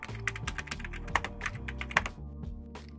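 Someone types quickly on a computer keyboard while writing text in After Effects, a close, quiet run of sharp irregular key clicks with a few louder taps and no talking.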